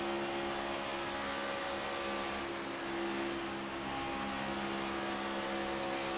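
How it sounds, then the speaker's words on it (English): A race car engine in an Outlaw sim racing series at Daytona drones steadily and loudly, holding a near-constant pitch with a slight dip partway through, with no voices over it. "Listen to this car."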